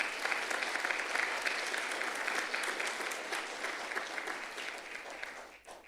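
A church congregation applauds during a sermon, dense continuous clapping that carries on for about six seconds at a moderate distance and fades slightly at the end.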